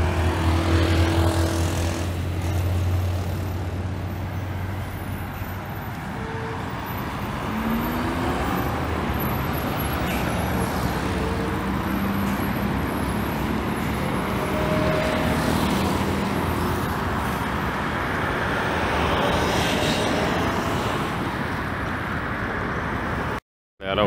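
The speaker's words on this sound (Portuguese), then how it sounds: "tá chegando um carro aí da Nacional" A Nacional company bus pulls into a bus station, a sustained engine and traffic rumble that builds and shifts over about twenty seconds, with steady low-frequency drone and station background noise, ending abruptly.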